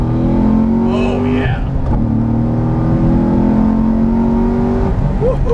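A 580 wheel-horsepower C6 Corvette Z06 engine revs hard and climbs in pitch, a steady loud drone under brief speech, then drops and builds again.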